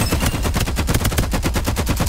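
Rapid automatic gunfire in the video game Farlight 84, a dense, loud stream of shots rattling continuously with no pauses.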